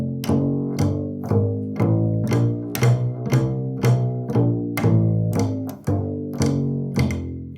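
Bass guitar plays a walking-bass chromatic run up to the fifth, a steady series of plucked single notes at an even pace, close and alone with no talking.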